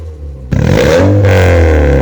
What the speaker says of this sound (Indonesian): Ayo coba kita dengerin suara knalpotnya.